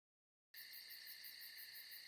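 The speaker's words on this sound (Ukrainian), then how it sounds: "звуки цвіркунів, цвірчання." Steady, high-pitched chirping of crickets in a continuous pulsing trill begins abruptly after a brief silence and stays soft and even.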